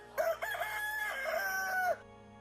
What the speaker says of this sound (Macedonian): Со кукурикањето на петлите ја започнавме оваа луѓе и места.